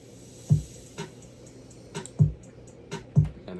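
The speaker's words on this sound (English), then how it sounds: "The crash is pretty straightforward and the reverse is pretty straightforward." A crash cymbal and a reverse cymbal from an FL Studio beat play alone over a quiet loop. Several bright cymbal washes rise and fade, and deep thumps hit at roughly one-second intervals.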